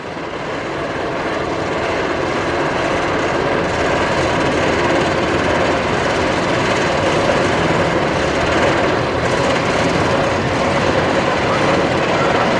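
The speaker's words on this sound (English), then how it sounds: "the sound of an RMC lift hill" An RMC roller coaster lift hill at Fun Spot America Atlanta gives off a steady, dense mechanical rumble and clatter that stays loud and even throughout, with no talking.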